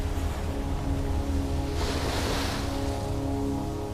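Ocean waves at high tide washing along an island coast in Fiji, a steady broad surf wash with one louder breaking surge in the middle, heard with no talking.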